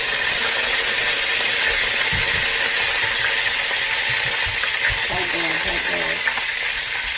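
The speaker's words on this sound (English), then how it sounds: "the oil was popping crazy" Vegetable oil popping and sizzling in a hot wok or skillet, a loud steady frying hiss with crackling bursts throughout and some faint clinks near the end.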